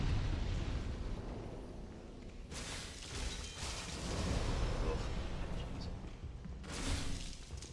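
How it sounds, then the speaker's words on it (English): An enemy shooting fire in the video game Demon's Souls, in the Stonefang Tunnel, makes a continuous roaring, crackling rush with a few brighter bursts, steady and fairly loud throughout. "He's going to shoot that fire."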